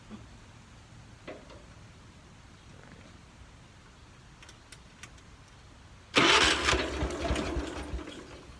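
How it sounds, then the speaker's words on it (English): A 1978 IH Cub Cadet 1000 tractor that had sat for 20 years starts up after a quiet wait, its engine catching abruptly and settling into a loud, close, steady running rumble. "So I'll start it back up again"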